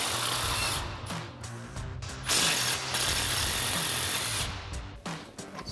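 An impact wrench with an 18 mm socket spins off a sway bar end link bolt on a Jeep Wrangler JL, giving a loud, sustained ratcheting buzz that runs almost the whole time, broken by a few brief pauses.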